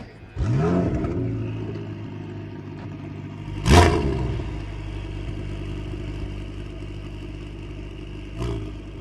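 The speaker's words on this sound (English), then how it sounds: "Drivers, start your Ferrari engine." Ferrari Challenge race car engines fire up at the Circuit of the Americas, a loud roar bursting in near the start, a sharper blip of revving around four seconds, then a sustained idling rumble with one more brief rev near the end.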